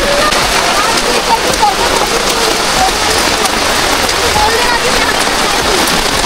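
Heavy rain falls near Kanheri Caves in Mumbai's national park, a loud, dense and constant patter with no letup from start to finish.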